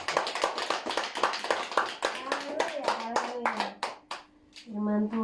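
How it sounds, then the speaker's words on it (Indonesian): A crowd claps in dense, sustained applause that thins out toward the end, with a voice and a musical tone coming in at the close. "Berikan tepuk tangan buat Tuhan Yesus Kristus"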